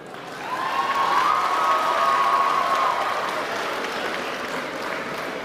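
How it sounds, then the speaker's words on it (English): A school assembly crowd in Atlanta applauds and cheers for Taja, loud, sustained clapping with a bright whoop rising over it near the start, continuing strongly to the end without speech. "Please give another round of applause for Taja."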